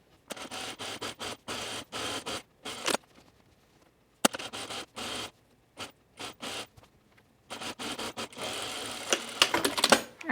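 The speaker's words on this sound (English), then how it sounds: "once you're done sewing those waistbands onto your bodice" Domestic sewing machine stitching waistbands onto a dress bodice, rapid mechanical needle chatter in repeated short bursts separated by pauses, close and clear.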